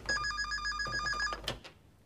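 Telephone ringing in a Greek TV series scene, a loud, close electronic bell trill lasting over a second, then cut off, with no talk.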